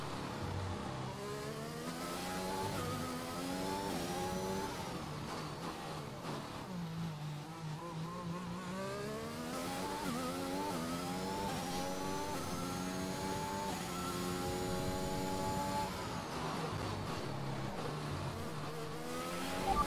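A Formula 1 car engine from the F1 2021 racing game at Singapore accelerates, its high-pitched whine climbing steadily through rising gears with brief dips at shifts, loud and continuous throughout.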